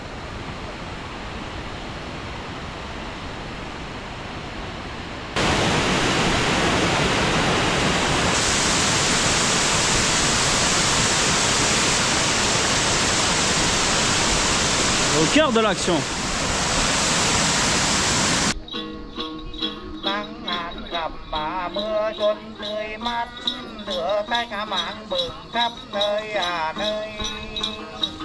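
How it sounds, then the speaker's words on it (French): A small waterfall in Vietnam during the dry season, heard as a steady broadband rush of falling water that swells louder partway through, then gives way to other sounds near the end, with a brief spoken line. "Voilà, une autre petite cascade ici."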